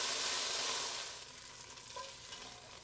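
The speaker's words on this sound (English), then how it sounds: "You hear that? That's what's giving us a beautiful sear" Beef sears steadily in a hot pot for vegetable beef soup, a close crackling hiss that softens slightly after the first second.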